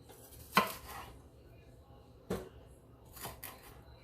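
A knife cuts an onion into big chunks for a rustic beef stew: three separate crisp chops on a board, spaced about a second apart, against quiet room background.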